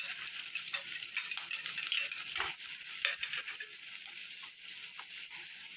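Chopped onion frying in ghee with bay leaf, cumin, cloves, cinnamon and cardamom gives a soft, steady sizzle, with light scraping stirs and faint clinks of a utensil against the pan.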